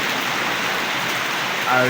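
Steady outdoor rain falls in Bujumbura, Burundi, a dense, even hiss that holds throughout, with a brief voiced sound near the end.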